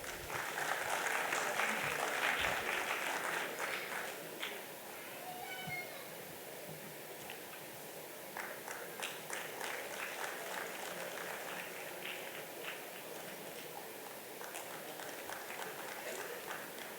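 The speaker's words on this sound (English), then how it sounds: "Can we have the applause coming, please?" Audience applause at a cost and management accountants convention technical session, a dense patter of clapping that swells loudest early on, then settles into steady, moderate clapping with some background voices.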